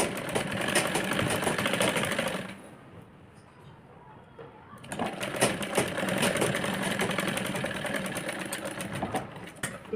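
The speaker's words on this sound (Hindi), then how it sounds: "इस तरह से सिलाई लगा लेंगे हम आगे वाले पार्ट में भी और पीछे वाले पार्ट में भी" A sewing machine stitches a girl's crop top, its fast, steady whirring chatter running close and loud, pausing for about two seconds midway before resuming at full speed.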